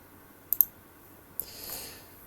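A computer mouse gives a quick double click and then a single click, sharp and close, followed by a soft rustle of movement with no talk.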